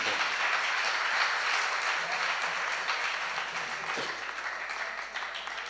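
Audience applause at a musical devotional gathering: a dense wash of many hands clapping continuously, loud at first and slowly thinning toward the end.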